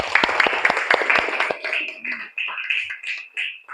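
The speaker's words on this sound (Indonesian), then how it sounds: "tepuk tangan untuk kelas" Schoolchildren in a classroom clap in a quick rhythmic burst for class 5, the claps sharp and close before fading into voices and cheering.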